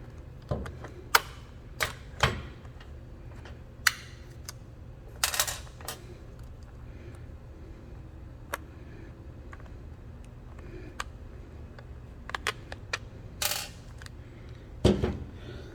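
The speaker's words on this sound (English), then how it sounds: "From the old battery, I need to take off all these screws." Screws being taken out of an old Permobil SmartDrive battery pack: scattered sharp clicks and small metallic ticks, spaced irregularly and fairly quiet, with a low background hum and no talking.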